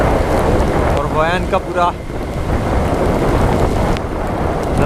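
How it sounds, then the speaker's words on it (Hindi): Heavy rain with rumbling thunder and wind buffeting during a ride from Hoi An to Danang, a dense, steady roar filling the whole clip while a voice speaks briefly over it. "नज़ारा ही अब बारिश ही बारिश हो गई यहाँ पे।"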